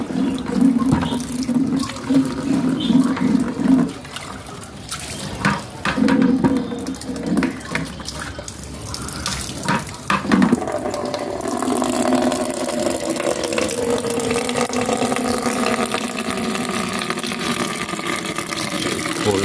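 Dirty water is poured out of a fish container, a close, steady splashing and gushing that runs continuously and shifts into a smoother rushing flow toward the end, with no speech.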